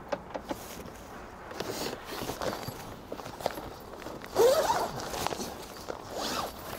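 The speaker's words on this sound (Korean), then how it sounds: "지퍼를 열어주고요." A zipper on an iKamper Skycamp 2.0 rooftop tent, mounted on Thule crossbars atop an Infiniti QX60, is pulled open in a series of scraping runs with a louder, closer pull midway and light handling noises between.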